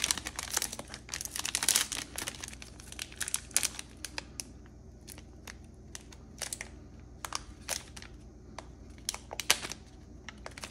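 NBA Panini Illusions basketball card pack wrappers ripped open up close, giving sharp bursts of crinkling and tearing foil in irregular clusters, loud at the start and then in repeated handling rustles.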